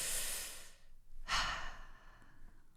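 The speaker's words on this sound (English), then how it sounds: "And then there's just a breath," A breath closing a played song: a long audible exhale, a brief pause, then a second deep breath, close and clear with nothing else over it.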